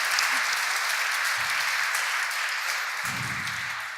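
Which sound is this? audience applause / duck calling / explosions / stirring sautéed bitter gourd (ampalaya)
audience applause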